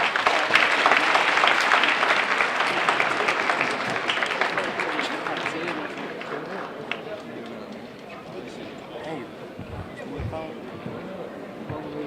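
A school assembly audience claps in a burst of loud applause that slowly thins and fades, with voices and crowd noise mixed underneath.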